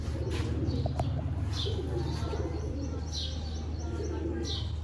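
Sialkoti black-faced pigeons coo softly at intervals under steady background hum and faint chirps from other birds, with someone speaking over them in a loft setting.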